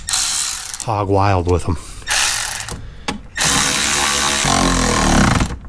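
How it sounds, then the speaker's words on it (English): A power ratchet drives small screws back in during a windshield washer pump replacement on a 2015-or-later Ford F150, with bursts of whirring, clicking drive separated by pauses and someone speaking briefly in between. "If you use a power ratchet, you got to be really careful putting these little tiny screws back in."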